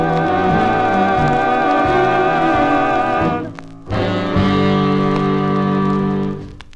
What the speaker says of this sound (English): That's the sound of the Billy Williams Quartet from September